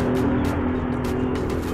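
Two cars driving uphill past a cyclist, a continuous engine and road rumble close by with faint clicking mixed in, steady and moderately loud.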